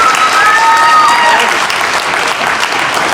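Wedding guests applaud loudly and steadily during the speeches at Rick and Kirstyn's reception, a dense roomful of clapping with a few whoops and whistles rising over it before it eases off slightly.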